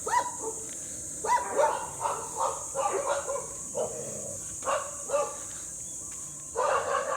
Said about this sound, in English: All right, the dogs are doing their thing.